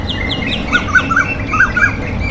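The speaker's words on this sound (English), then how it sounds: "The sound of the birds" Several birds squawk and chirp in quick, scattered calls over a steady outdoor background in green fields on a morning along the Kanyakumari Highway near Gangaikondan.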